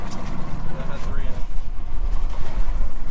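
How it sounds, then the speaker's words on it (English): Wind buffets a lobster boat on choppy water, with gusty broadband rush and slapping over engine rumble, while people talk close by. "Yeah, a little windy and choppy out here today"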